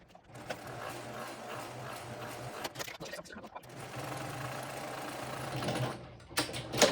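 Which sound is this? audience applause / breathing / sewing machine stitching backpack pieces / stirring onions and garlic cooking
sewing machine stitching backpack pieces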